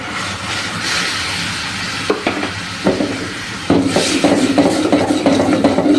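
Rice flour poured into boiling jaggery in a pot while making a sweet, starting as a steady bubbling hiss and then turning into a thicker, busier mass of scraping and knocking as a spoon works the mix, close and loud.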